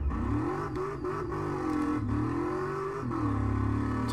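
Supercharged Reptilia R2 engine from a racing video game revving hard, a loud continuous whine with rising and falling pitch sweeps and no voice over it.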